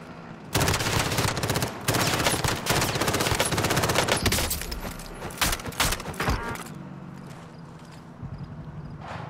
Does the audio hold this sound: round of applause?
no